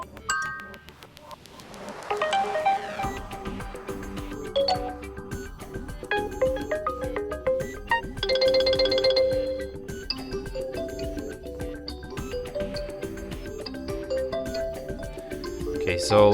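Several Realme 9 Pro+ system ringtones preview one after another, each a dense, busy electronic tune that switches abruptly to the next, with a louder burst partway through and no talking.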